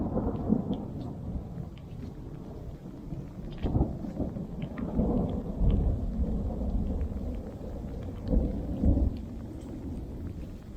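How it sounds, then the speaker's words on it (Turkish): Thunder rumbles low and long through a steady downpour of heavy rain, with gusts and patters swelling and fading. "Gök gürültüsüne bak."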